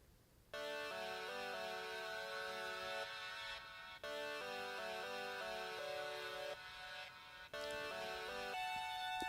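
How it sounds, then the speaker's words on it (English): A bright synth, layered with a metal guitar part, plays a repeating pattern of short, bell-like notes in looping phrases, with delay echoes trailing behind and a sense of space. "this is actually a synth that I added to layer with that guitar part"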